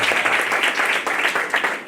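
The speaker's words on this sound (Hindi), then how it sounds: "एक बार यीशु मसीह के लिए जोर से तालियां बजा दें" A church congregation at a Sunday healing service claps together in a dense, steady burst of applause that fills the whole stretch at a fairly even loudness.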